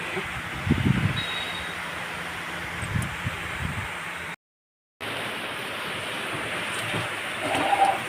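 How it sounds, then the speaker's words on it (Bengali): Steady broadband hiss of rain falling outside, continuous and moderately loud, with a brief cut to silence partway through. "দেখ বাইরে বৃষ্টি শুরু হয়ে গেছে।"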